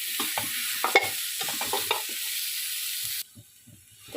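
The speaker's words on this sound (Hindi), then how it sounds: "इनको भी थोड़ा अच्छा सा पका लेंगे ताकि इनकी स्मेल वगैरह ख़त्म हो जाए।" Paya trotters are stirred as they cook in a pot, with a bright sizzle and scattered knocks and scrapes of a spoon for about three seconds, then the frying hiss cuts out, leaving quieter occasional clinks.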